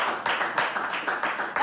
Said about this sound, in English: he deserves a round of applause for coming here today